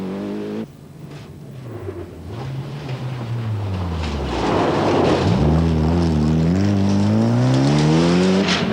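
A rally car races flat out on a special stage at the Port Dickson round of the 1992 Malaysian Rally Championship, its engine rising and falling through gear changes and growing louder as it nears and passes close by.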